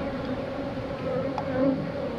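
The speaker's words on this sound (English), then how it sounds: "these bees are very aggressive" Honeybees buzz around an open beehive, a dense, steady close-up hum with individual bees whining past, and no talk.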